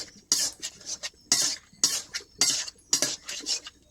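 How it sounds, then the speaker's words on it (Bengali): Metal spatula stirring and scraping bottle gourd in a pan, with sharp rhythmic clinks and scrapes in quick bursts about every half second, close and clear with no talking. "খুন্তিতে নেড়ে চেড়ে আমি এই জলটা টানিয়ে নেব মানে কষিয়ে নেব সুন্দরভাবে"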